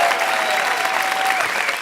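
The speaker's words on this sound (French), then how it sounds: "Du bruit pour Wallace, s'il vous plaît." Audience applause and cheering fill a comedy club at the Apollo, a dense, steady wash of clapping with a few whistles, loud and sustained throughout.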